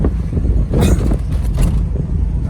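A 1966 Volkswagen Beetle Convertible, a lightweight car with four-wheel drum brakes, drives along with a steady, loud, close engine and road rumble throughout, its low drone rising and falling slightly.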